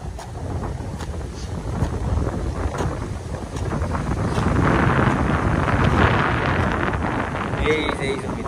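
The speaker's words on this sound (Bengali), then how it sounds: "কয়দিন থেকে খুবই বাতাস যাচ্ছে" Strong gusts buffet the microphone in a continuous low roar that swells louder midway, with no clear voices over it.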